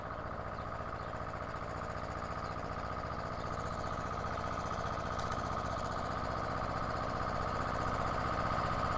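A tractor passing near an old Spanish town gives a faint, steady mechanical engine drone that stays even and distant throughout, with no other sounds.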